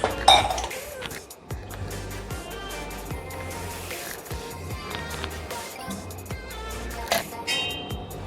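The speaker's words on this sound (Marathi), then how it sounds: "तर आपण ह्याच्यावर झाकण ठेवून शिजवून घेऊया." A metal lid clinks onto a cooking pot of fish in a home kitchen, a bright clatter at the start followed by softer clinks and pan noise over a steady background hum.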